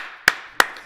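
Three sharp hand claps, evenly spaced and close, each a crisp, bright smack standing out over a faint background hum.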